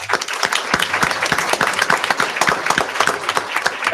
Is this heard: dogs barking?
no